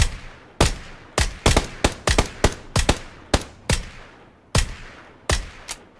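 Repeated gunshots ring out in the battle royale game PUBG, about a dozen sharp cracks in irregular single and double bursts with short echoing tails, loud and close, with no talking.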